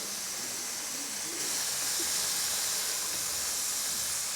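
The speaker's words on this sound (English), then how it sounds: "Those oysters fry awful fast." Oysters frying in hot oil give off a steady, bright sizzling hiss that thickens slightly partway through, with no voices over it.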